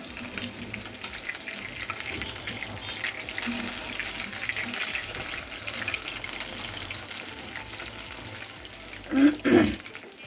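Chicken pieces coated in rice flour and chili spice fry in hot oil for an Iftar meal, a steady low sizzle and crackle running throughout with a couple of louder bursts near the end.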